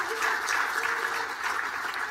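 A documentary awards ceremony audience applauds in New York, a soft, steady wash of distant clapping that stays even and fairly faint throughout the short moment.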